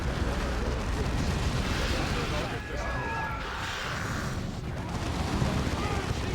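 Heavy squad weapons fire in a sci-fi battle video game, a continuous loud roar of rumbling gunfire and blasts filling the whole stretch, dipping briefly midway, with speech mixed under the din.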